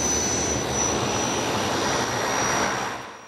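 A small plane ferries gear to an isolated cabin. Its engine gives a steady, broad roar with a thin high whine and holds constant throughout before easing slightly at the end.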